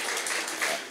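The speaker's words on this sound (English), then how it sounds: "Yeah, we can clap." Audience applause, a dense wash of clapping held at an even level through the whole short moment, fairly close, with no voices over it.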